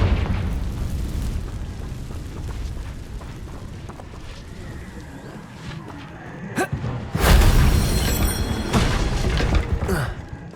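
Confringo spell explosions in Hogwarts Legacy arrive as sharp booming bursts over low game rumble, with one crisp crack followed by a loud, sustained blast and debris near the end.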